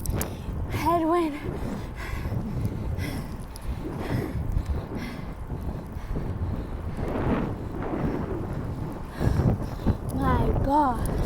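Headwind roars against the microphone of a cyclist riding in flat, swampy Florida, a steady gusting rumble under breathless talking throughout.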